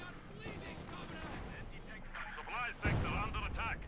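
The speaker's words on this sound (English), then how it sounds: "Field gun firing away there." A field gun fires in a Company of Heroes 2 battle, one heavy boom landing amid distant rumbling combat, while a commentator talks over the action.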